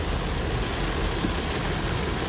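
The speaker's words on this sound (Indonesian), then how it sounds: "kalau hujan deras kayak gini guys" Heavy rain pours on a car driving along roads in west Surabaya, making a dense, steady roar that fills the cabin with no breaks and no talking.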